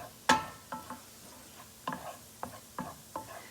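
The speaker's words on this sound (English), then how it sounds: "I'm going to give it another stir." A chicken broccoli pasta casserole stirred in a pan, a sharp scrape of the utensil followed by several lighter knocks and scrapes at an uneven pace, with faint sizzling underneath.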